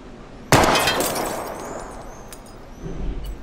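A gunshot strikes a wheel rim in Life Is Strange, giving one sudden loud crack with a bright, ringing, glassy shatter that slowly fades into a soft tail, followed by quiet low rumbling.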